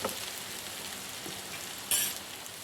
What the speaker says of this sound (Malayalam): നമ്മുടെ കോവയ്ക്കൊക്കെ നല്ലപോലെ കണ്ടോ ഫ്രൈ ആയി വന്നിട്ടുണ്ട്